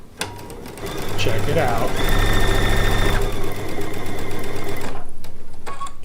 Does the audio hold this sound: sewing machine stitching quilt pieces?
yes